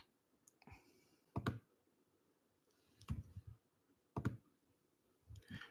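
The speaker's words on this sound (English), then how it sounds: "Just typing something out, sending it off." Keys click on a computer keyboard in short bursts of typing separated by quiet pauses, close and fairly faint.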